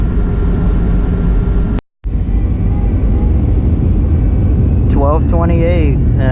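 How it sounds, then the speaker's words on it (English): Steady engine drone of a Surinam Airways airliner taxiing out for takeoff at PBM, constant and loud with a brief dropout, then a voice talking over the cabin hum near the end. "So we are taxiing out now for takeoff."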